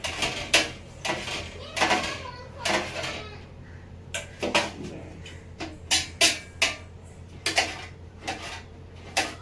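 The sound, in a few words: knife cutting okra into small pieces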